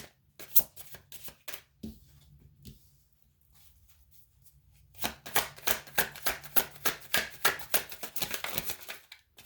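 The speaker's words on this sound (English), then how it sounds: "We shuffle on camera here" Tarot cards are shuffled by hand in quick, crisp riffling bursts, first in a few scattered flicks, then a long run of rapid rhythmic slaps, close and fairly quiet.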